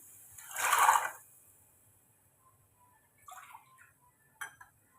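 Water poured into a pot of soaked, rinsed black chickpeas: one short, fairly loud splashing pour near the start, then a few light clinks and knocks of the pot afterward, with no talking.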